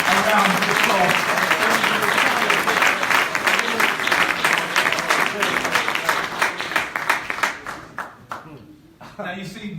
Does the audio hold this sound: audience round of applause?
yes